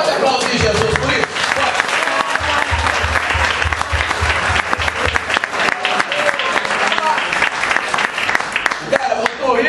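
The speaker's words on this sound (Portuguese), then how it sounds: "Pode aplaudir Jesus por isso?" A church congregation applauds, sustained loud clapping that fills the room for several seconds while a voice carries faintly underneath.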